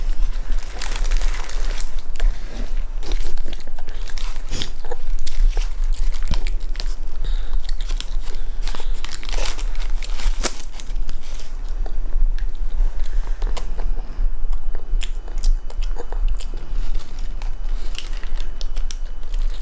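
A young child bites and chews a fried shrimp burger up close, with steady crunchy chewing and occasional sharp crisp bites throughout.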